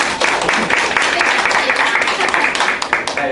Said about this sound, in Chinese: 来，掌声鼓励，掌声鼓励。